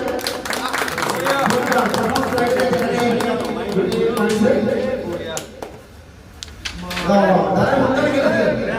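Audience applause at a carrom competition held by a youth club: a dense, steady patter of many hands that dips briefly near the middle, then swells again, with voices talking over it throughout.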